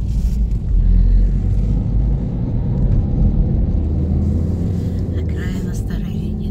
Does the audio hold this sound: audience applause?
no